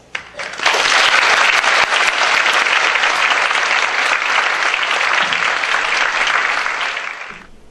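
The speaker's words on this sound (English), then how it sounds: "Let us welcome our speaker with a good round of applause." A large university lecture audience welcomes a speaker with loud, sustained applause that swells quickly, holds steady for several seconds, then fades, with no talk over it.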